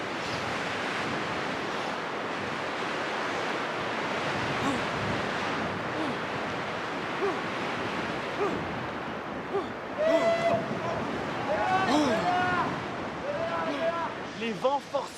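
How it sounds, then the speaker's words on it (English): Strong gusting wind roars through the woods in a rushing, broadband wash that swells and eases. Creaks and whistles rise near the end, and a voice talks over it. "The wind is getting stronger."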